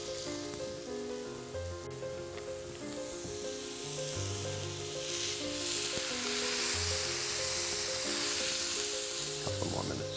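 Meat searing on a hot grill to get grill marks gives a steady, loud sizzle and crackle that runs through the whole stretch, with tonal, music-like bands sounding underneath.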